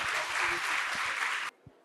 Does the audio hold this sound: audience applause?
yes